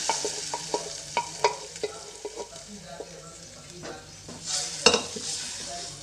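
Boiled lentils stirred into fried onion and garlic in a pot, with repeated sharp spoon clinks and scrapes against the metal over a low sizzle and a louder burst near the end.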